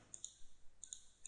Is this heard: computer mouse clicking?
yes